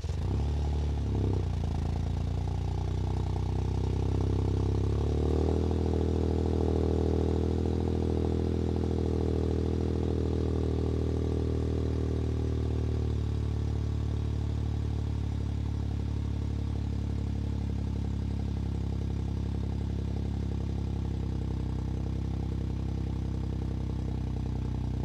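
Toyota GR Yaris with a custom exhaust and Eventuri intake rumbles steadily on a road test, with a loud, low, continuous engine drone whose pitch shifts slightly as it drives.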